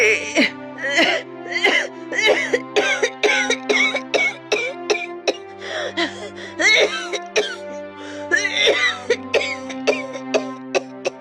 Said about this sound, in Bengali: কাশিটা আবার বেড়েছে?